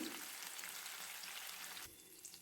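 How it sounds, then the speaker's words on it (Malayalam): Seer fish frying in a pan topped with curry leaves gives a steady, close, bright sizzle and crackle that holds throughout and softens slightly near the end. "എന്നിട്ട് നമുക്ക് ഫ്രൈ ചെയ്തെടുക്കാം"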